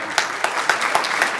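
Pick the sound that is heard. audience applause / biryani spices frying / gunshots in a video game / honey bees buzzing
audience applause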